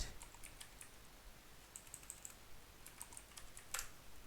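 Keys on a computer keyboard tapped in short, irregular runs of faint clicks, quiet and alone with no talking.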